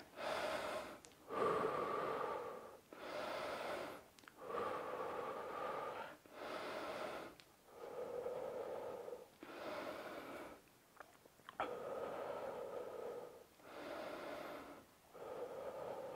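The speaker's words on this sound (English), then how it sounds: "So let's breathe." Slow, deep breathing during a seated stretch in a home workout, with about eight long rhythmic breath cycles of drawn-out inhales and exhales, close and steady, with no talking.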